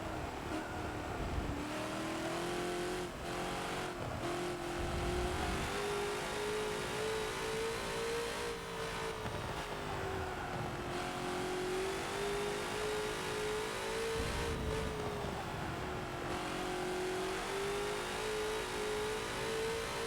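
TNT GT40 in Forza at the Mugello track, its engine droning steadily under load and rising and falling in pitch as the throttle is rolled on through long curves. Loud and continuous, with no talking.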